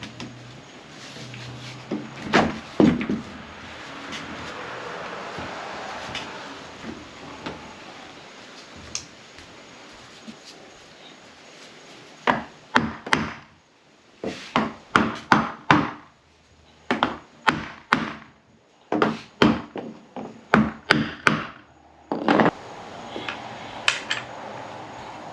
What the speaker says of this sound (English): it's as simple as sliding these other pieces back in and getting it all bolted back together